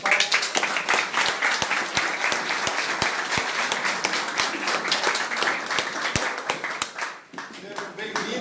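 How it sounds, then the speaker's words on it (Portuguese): Audience in a gathering space applauding to welcome oil workers, dense continuous clapping from many hands that fills the clip and eases slightly near the end. "vamos acolher os petroleiros e as petroleiras com uma calorosa salva de palmas aqui nesse espaço"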